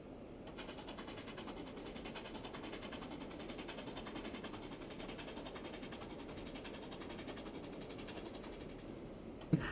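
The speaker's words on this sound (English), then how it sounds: "Then James rattled through with the goods train." A goods train rattles steadily along the rails, a continuous dense rumble and clatter that holds at an even level throughout, with one sharp knock right at the end.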